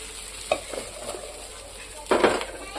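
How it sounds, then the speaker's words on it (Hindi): Dosa batter poured onto a hot pan over a high flame, with a soft continuous sizzle, a few light scraping strokes and a louder hiss near the end, close by and without speech. "अब इस पे डालेंगे डोसा और हाई फ्लेम में"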